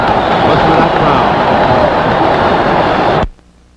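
Boxing arena crowd at the end of round 4 of a 1950 Rocky Graziano vs Gene Burton fight, a loud sustained roar of cheering and shouting that holds steady throughout, then cuts off abruptly near the end.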